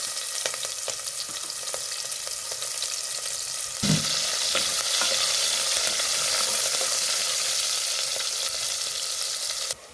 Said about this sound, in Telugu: తరువాత అవి వేగిన తరువాత ఆనియన్, పచ్చిమిర్చిని వేసుకోవాలి